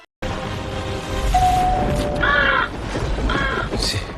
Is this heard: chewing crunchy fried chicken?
no